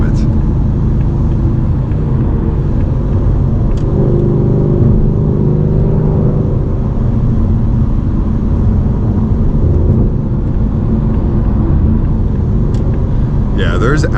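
A car on an E30 ethanol tune accelerates hard in third gear, with a loud, sustained engine drone and road rumble filling the clip from start to finish.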